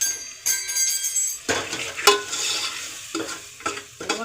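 Flour being stirred into Punjabi kadhi masala in a pan, irregular scraping strokes and clinks of a spoon against metal over a light sizzle.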